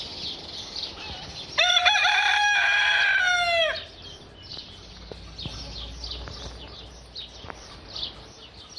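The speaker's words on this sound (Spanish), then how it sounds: "es cantar un gallo" A rooster on a rural property crows once, loud and close, a long ringing call lasting about two seconds, followed by quieter background clucking and bird sounds.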